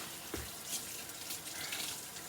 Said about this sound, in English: I'm about to rinse off this catfish.